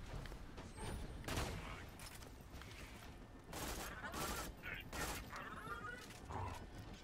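Sandhawk gun from the video game Borderlands 2 fires in rapid bursts, a crackling fusillade of repeated shots with mechanical clatter, mixed with game effects at moderate loudness.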